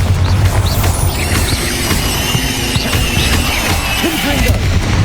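Spell blasts and crashing impacts in the wizarding game Hogwarts Legacy, loud and busy, with squealing effects and booms layered over continuous battle noise and faint voices.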